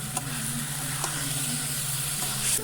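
Chicken marinated in yogurt sizzles steadily as it fries with spices in a pan in a village kitchen, a close and continuous hiss with a low hum underneath and no voices.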